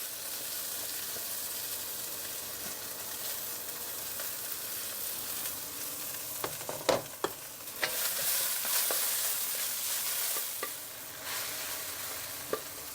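Chinese green chives stir-fried in a hot oiled wok give a steady, close hiss and crackle, with sharper clatters and bursts of sizzle as the greens are tossed and stirred, no one talking.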